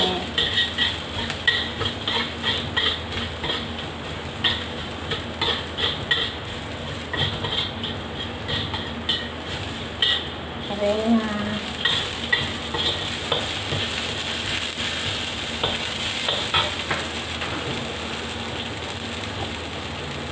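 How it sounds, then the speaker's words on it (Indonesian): Garlic sautés in hot oil in a pan, a steady crackling sizzle running throughout with frequent scraping and clinking stirring strokes, close and moderately loud, no talking. "Ini bawang putihnya ditumis dulu biar langsung."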